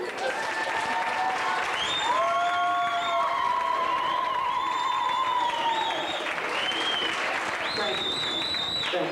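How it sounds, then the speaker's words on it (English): An audience at an anniversary celebration gives a sustained round of applause and cheering, with whistles and voices rising over the dense clapping throughout. "can we hear that round of applause again?"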